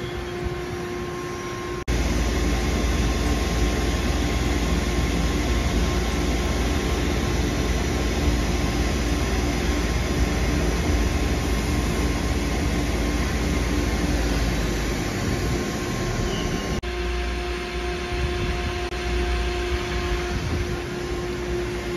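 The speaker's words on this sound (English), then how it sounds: "Our turning tool is now set, ready to turn this to its final diameter." A lathe turning tool cuts a long 22mm column spindle down to its final diameter, the workpiece supported by a center: a steady, loud machining whir and hiss that starts abruptly and runs continuously, shifting slightly in tone near the end.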